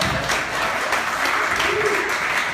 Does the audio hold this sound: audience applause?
yes